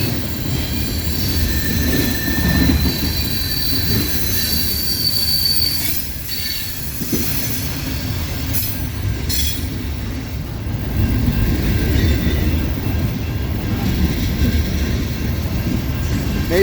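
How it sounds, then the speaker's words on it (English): A CSX freight train slows into a siding, its wheels giving long high-pitched squeals over the steady rumble and clatter of passing railcars close by. "Train is slowing down a lot now."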